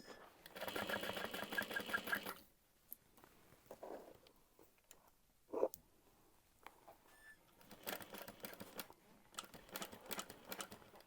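A sewing machine stitches a handbag in short bursts of rapid, rattling stitching separated by quiet pauses and handling noises, fairly close but soft.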